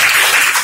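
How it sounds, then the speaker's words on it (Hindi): A classroom of students gives a brief burst of applause, dense clapping heard for under a second at moderate level. "एक बार तालियां हो जाए।"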